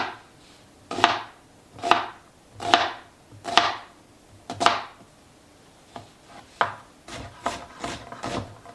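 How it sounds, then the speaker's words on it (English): An onion is chopped with a knife on a board into pieces matching the carrots, a close, even series of crisp thuds roughly one per second, then a quicker, lighter run of cuts toward the end, with no talking. "I'm just gonna cut the onion up into very similar sized pieces as the carrots"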